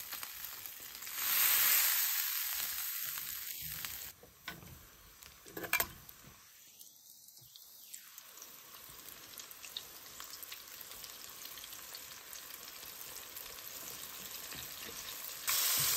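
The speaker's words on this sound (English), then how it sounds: "Now we're gonna leave them onion rings in there for about 3 to 5 minutes." Scratch-made battered onion rings fry in oil in a cast iron pan, giving a continuous bubbling sizzle with a louder burst at first, interrupted by a few low rumbling thumps and clatters as the pan is handled.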